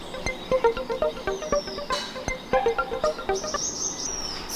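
Small birds chirp and tweet in quick, repeated notes outdoors at about six in the early morning, fairly close and moderately loud, with a few higher sweeping calls over a steady faint background hiss.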